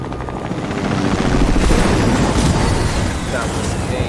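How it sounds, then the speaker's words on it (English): A helicopter in the Fortnite video game approaches, a loud, dense rotor roar that swells toward the middle and stays heavy throughout, mixed with game noise. "I think someone's coming in a helicopter."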